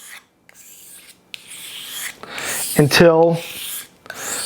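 A chef's knife is sharpened with push and pull strokes, the rasping blade scrapes sounding close while someone talks over them.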